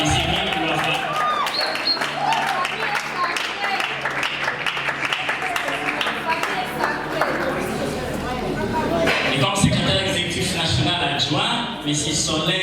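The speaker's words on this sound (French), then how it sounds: "j'invite l'assistance à applaudir, M. Émile Loafa" A theatre group's anniversary gathering, where the audience claps steadily in a rapid, dense patter that fills the room, while an announcer's voice carries over it in French.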